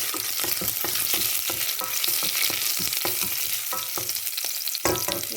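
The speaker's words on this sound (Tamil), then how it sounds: "இப்போ உள்ளியை போடுவோம். இஞ்சியையும் கையோட போடுவோம்." Garlic and ginger frying in a pan, a steady loud sizzle with repeated sharp scraping stir strokes at an irregular rhythm, close up and without voices.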